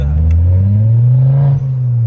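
Ford Focus ST fitted with a Malian exhaust, a loud, deep engine drone rising steadily in pitch as it revs, close by, with a brief break near the end.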